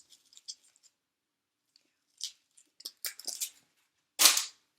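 A knife chops the ends off an onion on a board in a few sharp, separate cuts, the last one loudest, set among quiet scattered taps and scrapes with no speech.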